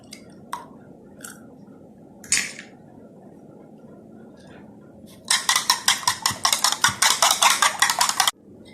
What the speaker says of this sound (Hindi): अब मैं 2 अंडे इसमें डाल के मिक्स करूँगी फ्राई करने के लिए।